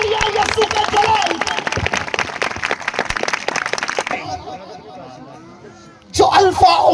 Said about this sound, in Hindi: ज्यादा तालियां